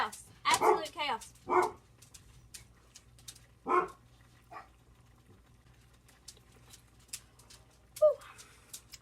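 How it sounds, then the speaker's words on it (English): Pet dogs bark in short bursts at children across the street, several sharp barks early on, then a pause and a lone later yelp, fairly close inside a home with quiet background between. "They're barking at children across the street."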